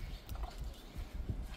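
Mares and young foals walk on a farm, their hooves giving faint, uneven clip-clops against a quiet outdoor background.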